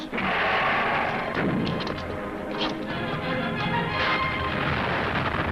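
A torpedo strikes a ship amidships in a 1960 war film, a heavy rumbling explosion swelling into a long roar with crackling bursts, loud and dense throughout.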